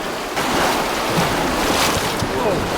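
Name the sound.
river rapids rushing past boulders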